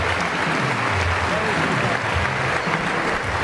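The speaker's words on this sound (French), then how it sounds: "Les applaudissements" Arena crowd applauding after a European Championship EBU boxing bout, a thick continuous roar of clapping that stays loud and even throughout.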